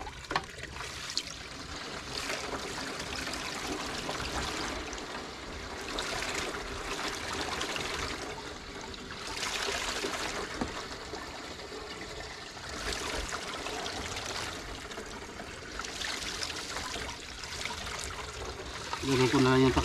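Water trickles and splashes steadily out of a pipe in snowy weather, a faint, continuous flowing sound with irregular gurgles throughout.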